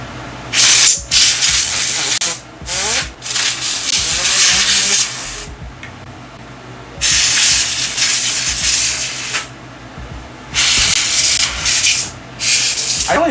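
Compressed air from a can sprays in repeated bursts of a few seconds each onto an RTX 3090 graphics card inside a Dell PC, a loud, close, hissing rush with short pauses between blasts.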